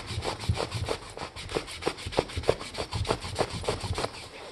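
Someone scrubs metal with a rag, a close series of rhythmic rubbing strokes, about two per second, rasping back and forth without talk.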